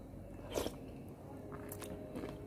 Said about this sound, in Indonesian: Seruput dulu.